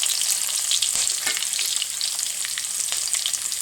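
Pieces of coconut frying in hot oil with mustard seeds for a crab roast, a bright continuous sizzle with crackling pops and a few stirring scrapes, no voices.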